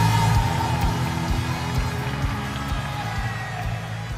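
Crowd at an amateur mixed martial arts event cheering and applauding a fighter's introduction, a loud, continuous wash of clapping and shouts in a large room, with amplified announcing underneath.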